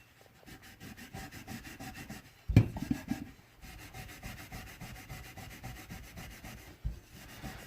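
A brush rapidly scrubs the nozzle ring and outer ring of a bell in quick, rhythmic rasping strokes, close and fairly quiet, with a brief louder knock partway through and no talking.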